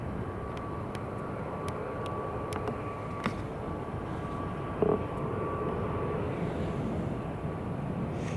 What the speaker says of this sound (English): Aer Lingus just coming in now